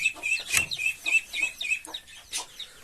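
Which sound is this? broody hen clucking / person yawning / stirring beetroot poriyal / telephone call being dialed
broody hen clucking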